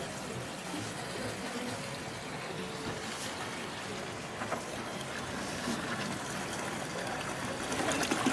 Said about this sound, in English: the media flows right into the pot very easily